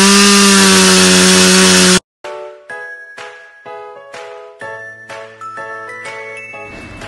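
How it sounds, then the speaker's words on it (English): A chainsaw cuts through wood in a loud, steady burst that ends abruptly, followed by a run of bright, ringing tonal strikes in an uneven rhythm. "chainsaw with 115 dBA"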